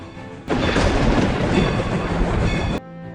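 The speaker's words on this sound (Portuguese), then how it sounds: "Imagine a situação que estamos observando um trem em alta velocidade." A high-speed train rushes past as a sound effect, a sudden loud roaring burst that holds for about two seconds and then cuts off abruptly.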